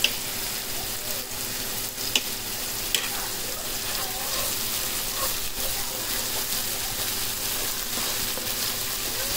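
Chili paste and capsicum frying in a pan for a fish curry, a steady, fairly loud crackling sizzle with scattered pops and a few sharp clicks, carrying on evenly throughout.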